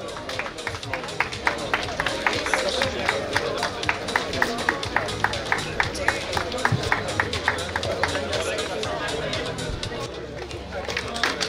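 A crowd at the award ceremony of a road cycling race claps for the placed riders. The applause is steady and fairly loud with sharp individual claps, and a voice speaks over it along with murmuring from the crowd.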